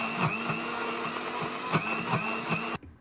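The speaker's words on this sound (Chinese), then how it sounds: "用破壁机打成泥" A high-speed blender purees cleaned greens with about 300 ml of water, whirring loudly and steadily with rhythmic pulsing thumps before cutting off abruptly near the end.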